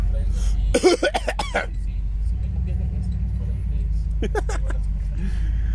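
A few short, fake coughs and throat clearing over steady traffic rumble in Durango, followed by another brief burst of coughing a few seconds later.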